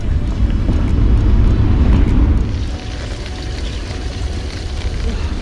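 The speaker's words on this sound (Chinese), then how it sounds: "好啦，到坑间位置啦，听见水声" A mountain stream rushes through a rocky ravine on Kowloon Peak's hiking trail in Hong Kong, giving a steady, close broadband wash that is loudest at first and then settles slightly softer.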